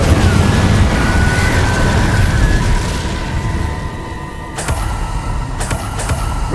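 An Incendio fire spell cast in Hogwarts Legacy erupts as a loud, roaring whoosh of flame that rumbles for about three seconds, then fades into sharp crackling bursts and short impact hits over game ambience.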